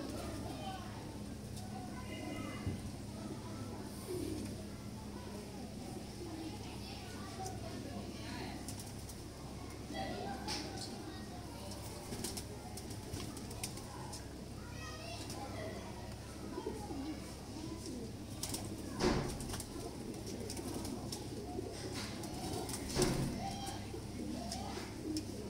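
Breeding pair of Sadhna bloodline pigeons cooing softly amid busy outdoor ambience, with someone talking throughout and faint background chatter and clatter.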